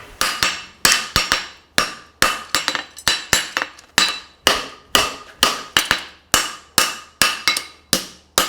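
Farrier's hammer striking a hot steel horseshoe on an anvil while forging a hind preventer shoe, sharp ringing metallic blows in a steady rhythm, about two per second, loud and close with no talk.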